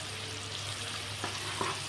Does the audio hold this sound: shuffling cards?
no